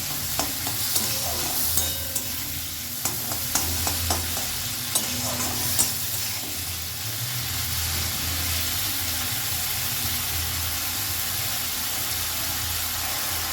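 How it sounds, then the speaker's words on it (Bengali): Salted, turmeric-coated prawns fry in a little oil over a high gas flame. A loud steady sizzle runs throughout, with a series of sharp spatula clicks and scrapes in the first half and no voices. "গ্যাসের ফ্লেমটা হাইতে করে কয়েক সেকেন্ড একটু ভাজা ভাজা করে নেব"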